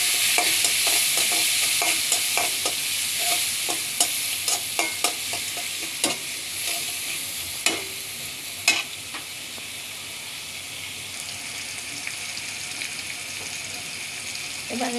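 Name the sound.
chopped onion frying in a pan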